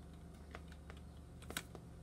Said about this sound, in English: My typing is kind of loud.